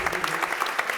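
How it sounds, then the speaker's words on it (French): A crowd applauds the champions of the men's padel final at the FFT Padel Tour in Perpignan, with steady, fairly close clapping that goes on throughout and a voice faintly beneath it. "On peut les applaudir."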